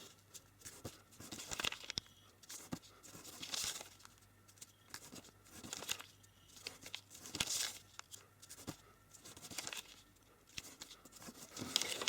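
Paper is creased and folded for an origami hydrangea, giving soft crinkling and rustling bursts at an irregular pace, close and quiet with no talking.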